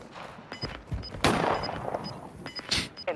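Video game gunfire rings out as several sharp, irregular shots, some in quick clusters. They are fairly quiet and sit among other in-game noises.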